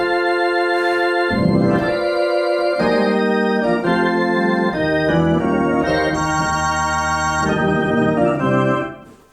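Roland FP-90 digital piano playing its Surf Monkeys voice, a twangy surf-style tone in a melodic phrase of plucked notes and chords over a steady low line, loud and continuous for about nine seconds before fading.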